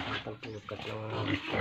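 Weaned white piglets on a farm grunt and squeal close by, brief oinks mixed under someone talking over them.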